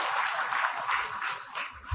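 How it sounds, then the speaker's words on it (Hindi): An audience at a farming talk claps for farmers, a short burst of dense, close applause that rises and fades within a couple of seconds. "इनके लिए ताली बजाओ भाई"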